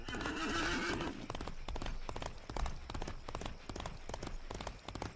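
Horse in Disney Infinity's Lone Ranger world, a loud close whinny in the first second followed by rapid clip-clop hoofbeats as it runs, with speech mixed in.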